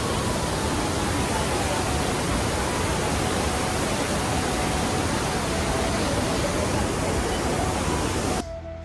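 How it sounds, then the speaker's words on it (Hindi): Mountain spring water gushing steadily at Sahastradhara in Dehradun, a dense, continuous roar of falling water up close that holds unbroken before cutting off abruptly near the end. "यहाँ से ये पहाड़ से पानी निकलता है, ये कोई नदी वाला पानी नहीं है"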